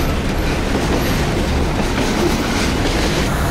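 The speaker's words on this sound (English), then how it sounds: "You're riding on a train just like this one." A passenger train in Cambodia rolls along the rails with a loud, steady rumble and rattling clatter heard from on board, no voices present.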